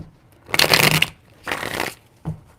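Tarot cards being shuffled up close, three bursts of riffling flutter, the first loudest, separated by short pauses, with no talking.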